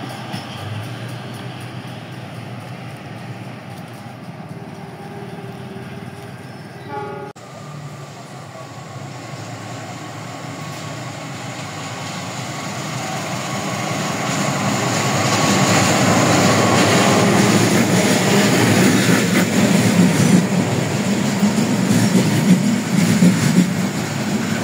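A commuter train rumbles into Surabaya Pasar Turi station in Indonesia, its noise building and growing louder over the second half as it draws close, with a broad roar and rattling wheels.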